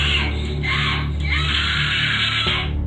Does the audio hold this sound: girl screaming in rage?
yes